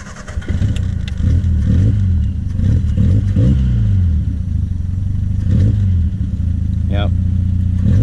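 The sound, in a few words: Triumph Spitfire engine running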